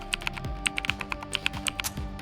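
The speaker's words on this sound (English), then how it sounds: "Typing sequence, precision cadence, clean actuation, return to idle state." Keys clatter on a keyboard in quick, uneven bursts of crisp clicks and taps, close and fairly loud, with no voice over them.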